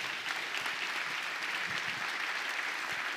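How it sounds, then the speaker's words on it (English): Conference audience at a West Michigan CEO summit applauding a family business panel, a dense, steady wash of clapping from a large room. "How about a round of applause for our panelists?"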